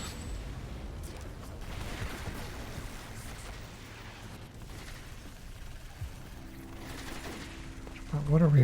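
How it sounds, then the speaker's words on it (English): Gunfire from the video game City of Heroes comes as dense, continuous rapid bursts, loud and sustained, with a brief voice near the end. "What are we all shooting at?"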